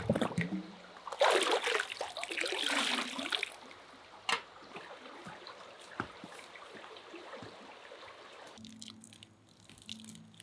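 Water being collected at an off-grid cabin, a loud rushing splash early on giving way to quieter trickling and scattered drips, fairly close, with a low steady hum underneath and no talk.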